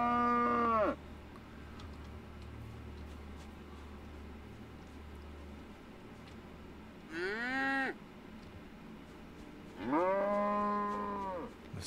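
Cow in a survival game, three long drawn-out moos spaced several seconds apart, loud and close over a quiet background hum, with no voices.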